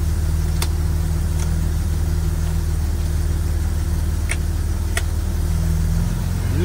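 A car engine runs steadily and loudly close by as the gearbox is shifted through a couple of gears, with a few faint clicks and knocks over the constant low drone.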